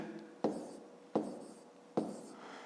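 A pen writes numbers on paper in a quiet room: three short, soft scratching strokes spaced evenly, each fading quickly, close and faint.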